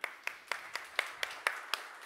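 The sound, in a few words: audience applause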